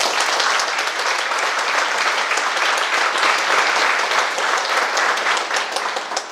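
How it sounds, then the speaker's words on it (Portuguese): An audience at a public hearing breaks into sustained applause, many hands clapping densely and evenly at moderate loudness for about six seconds before tapering slightly at the end. "a quem eu peço uma salva de palmas"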